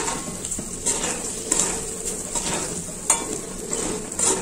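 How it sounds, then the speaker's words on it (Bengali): A spoon scrapes and stirs through a sizzling phuluri curry mixture of sugar and spices in a pan, with repeated close knocks against the metal over a continuous frying hiss. "তারপরে আমি এগুলোকে ভালো করে মিশিয়ে নিচ্ছি।"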